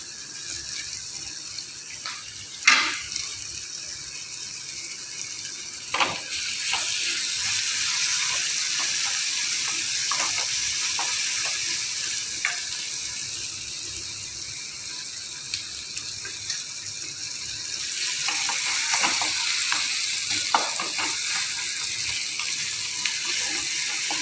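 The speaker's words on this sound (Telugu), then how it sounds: "ఇప్పుడు కరివేపాకు వేసుకుందాం." Curry leaves sizzle in hot oil for Rayalaseema-style uggani, a steady bright hiss running throughout with occasional sharp scraping clicks from stirring, close by and without voices.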